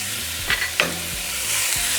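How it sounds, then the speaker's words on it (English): Ground meat seasoned with salt, garlic salt, oregano, cumin and black pepper browns in a pot for a burrito filling, with a steady sizzle and a few clattering stirs of a utensil, close and alone. "So now we're just going to mix it until our meat has browned."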